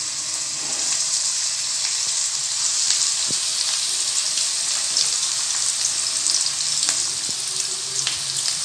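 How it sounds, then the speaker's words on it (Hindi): Onions frying in hot oil in a pan or kadai make a steady, close, bright sizzle throughout, with faint clinks now and then and no talking. "गरम हो जाए तो हमने उसमें ये प्याज ऐड करनी है।"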